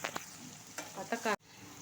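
Poppy seeds are dropped into a little hot oil in a home kitchen, giving a brief quiet sizzle with a few light crackles and stirring clicks, cut off abruptly.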